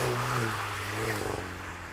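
Volkswagen Golf R engine pulling under full throttle, a steady droning engine tone heard from inside the car, moderately loud and continuous for a couple of seconds with no talking.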